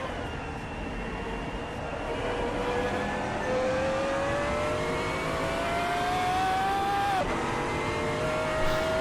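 A Pagani Huayra engine at full throttle in a racing game climbs steadily through a long flat-out stretch, its rising whine peaking before a quick drop at an upshift and then pulling again, close and continuous.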